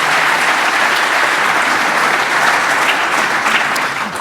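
A live audience at a radio-hosted religious freedom debate applauds in a dense, continuous wash of clapping that holds steady for several seconds before easing slightly at the end.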